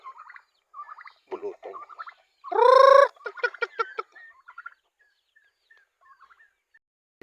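Large turkeys gobble close by, one loud rattling burst standing out among shorter scattered calls and clucks, with a little talk in between.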